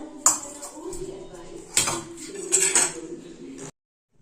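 A metal pressure cooker lid being set and closed over masoor dal, a few sharp clanks and clinks of metal on metal with a brief scrape between them, close and fairly loud, then silence.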